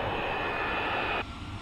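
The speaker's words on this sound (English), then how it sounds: "Giant 6972 has been covering about 3 miles a minute on approach" Fixed-wing jet airliner on approach to Chicago O'Hare, a loud, steady engine roar that holds evenly and then drops off sharply near the end, with no voices.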